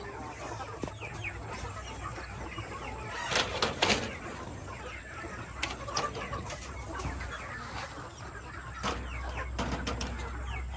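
Bantam chickens in a farm coop, a few soft clucks and short calls scattered over a steady low background hum, fairly close but modest in level, with no one talking.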